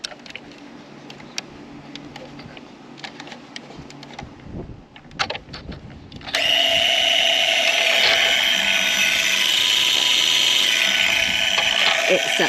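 An Intex pool vacuum switches on partway through, and a loud, steady motor whir and suction rush take over after a stretch of quiet clicks and handling noises.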